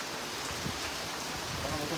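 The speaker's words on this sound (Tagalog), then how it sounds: "Ang lakas ng ulan." Heavy rain pours down steadily at an outdoor fishing spot, a dense, even hiss of falling water that continues without a break, with faint low sounds beneath it.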